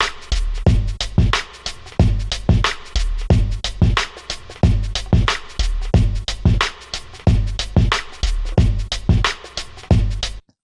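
Hip-hop drum groove with punchy kicks and crisp snares looping steadily over a sampled backing, loud and continuous with no talking.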